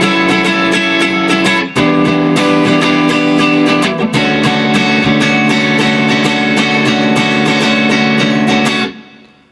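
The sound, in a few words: guitar playing song chorus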